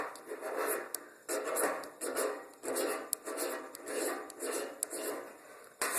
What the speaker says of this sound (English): you'll want to get you a pile of magnesium shaved off. But you just take your blade,